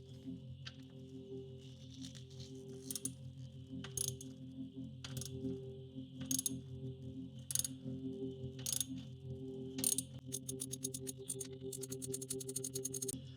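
A ratchet works a bolt loose during a 12V battery replacement on a Fisker Ocean, giving sharp, regular clicking bursts over a low mechanical hum and ending in a quick run of rapid clicks.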